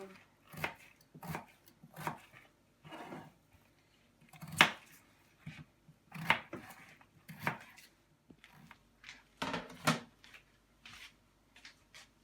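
A knife chops potatoes into smaller pieces on a cutting board, a dozen or so separate sharp cuts at an uneven pace, quiet and close, with no voices.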